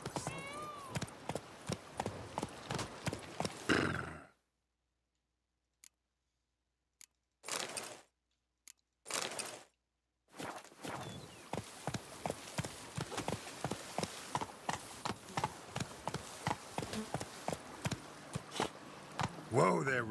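Roach the horse's hooves clip-clop steadily in The Witcher 3, a rhythmic walking gait that drops out into silence for a few seconds, broken by brief bursts, then resumes its even beat.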